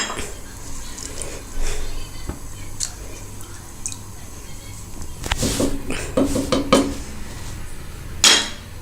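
Metal pot lid clanks and rattles as it is set on a cooking pot of simmering fenugreek and lentils for Moroccan rfissa with chicken, a few sharp close clinks over a faint bubbling kitchen background.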